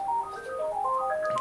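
A melodic phone ringtone plays a quick rising and falling sequence of electronic tones, clear and fairly close, with no one talking.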